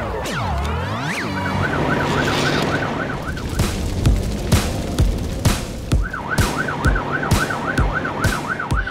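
Toy fire engine bus siren, a warbling electronic wail in two long bursts separated by a short gap, with toy music tones at the start and clicking, knocking play sounds throughout, fairly close and loud.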